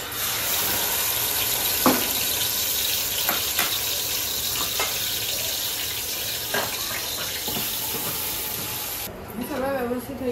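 Hot water is poured into a pan of marinated food frying in oil, giving a loud, steady sizzle and splash with a few sharp crackles, and a voice joins briefly near the end.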